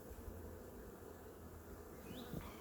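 Honey bees hum steadily around an open hive during an inspection, a dense, close buzz continuing throughout with a few individual bees whining past near the end.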